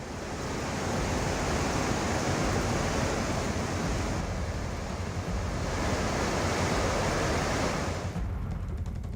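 Floodwater after continuous heavy rain rushes through the streets of Kottayam, Kerala, strong enough to sweep away parked vehicles; a loud, steady, broadband roar of churning water continues without a break, with no voices.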